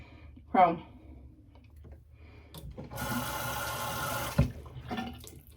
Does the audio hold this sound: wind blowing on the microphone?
no